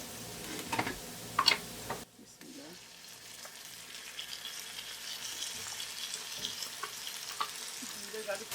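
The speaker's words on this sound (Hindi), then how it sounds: "जिंजर गार्लिक पेस्ट को अच्छी तरह से फ्राई करेंगे।" Ginger garlic paste fries with browned onions in a pot for chicken pulao: a few loud scraping stirs first, then a quieter, even sizzle with light occasional clinks, heard close.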